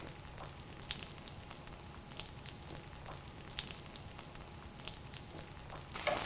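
Turkey schnitzel fries in a shallow layer of oil in a pan, a soft, steady crackling sizzle with scattered pops, swelling louder in the final moment.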